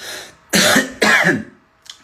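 Two harsh coughs from a man with a cough and fever, in quick succession, close and loud, followed by a faint third one after a pause.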